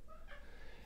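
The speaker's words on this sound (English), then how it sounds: "that's my crazy cat" A single brief, faint meow from a cat, soft and somewhat distant over low background noise.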